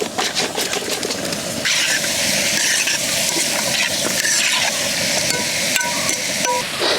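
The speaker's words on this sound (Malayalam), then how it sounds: "ഇനി നമുക്ക് കഴുകി വൃത്തിയാക്കി വെച്ചിരിക്കുന്ന ചിക്കൻ ഇട്ട് കൊടുക്കാം" Washed chicken goes into a pan of fried onions and turmeric for chicken kurma, giving a steady close sizzle and frying hiss with some stirring clatter and no talk.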